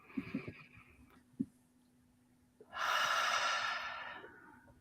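A person takes a slow, deep breath in and lets it out as a long, airy rush, close and fairly loud. A few soft mouth sounds come before it.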